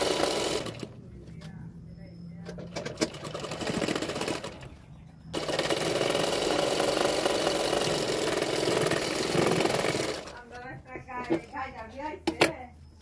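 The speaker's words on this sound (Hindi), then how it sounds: "तो अभी मैं फिटिंग के लिए सिलाई कर रही हूँ।" A domestic sewing machine stitches a blouse seam for fitting, running in a sustained mid-pitched whir for several seconds, stopping and starting again, with quiet pauses between runs.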